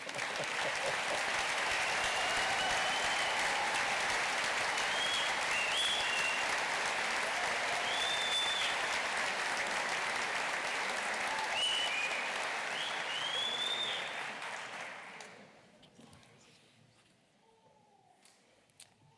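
Sustained loud applause from a large university commencement audience for architecture, planning and design graduates at K-State, steady for about fifteen seconds before fading out, with a few whistles on top.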